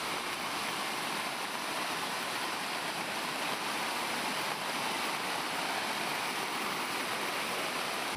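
Floodwater from the Bhadra river rushes through flooded farm fields and plantations in Chikkamagaluru, a steady, dense roar of churning water holding level for the whole stretch with no voices.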